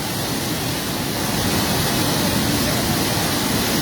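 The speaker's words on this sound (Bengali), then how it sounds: "জালালাবাদের বাঁধ ভেঙে প্রচণ্ড পানি ঢুকতেছে" Floodwater surges through the broken Jalalabad embankment in Habiganj after two days of heavy rain, producing a loud, constant roaring rush of water without pause.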